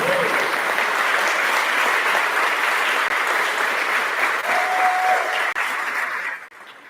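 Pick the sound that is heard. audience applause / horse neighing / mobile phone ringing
audience applause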